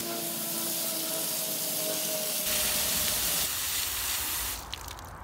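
A hose sprays water over a mining screen to wash dirt and clay off dug Herkimer diamond quartz crystals, a steady hiss that changes pitch as the spray shifts, with a faint hum underneath before fading out.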